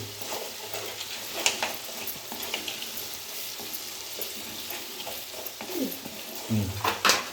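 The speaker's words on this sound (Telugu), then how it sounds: "తర్వాత స్పూన్తో అంతా మిక్స్ అయ్యేటట్టు కలుపుకోండి" A spoon stirs a pot of mixed-vegetable kalagura curry for a Sankranti meal, giving a soft, continuous sizzle with scraping and clinks against the pan throughout.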